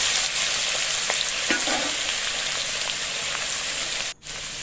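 Potatoes frying in hot oil in a wok make a loud, continuous close-up sizzle with scattered crackles, dipping briefly near the end.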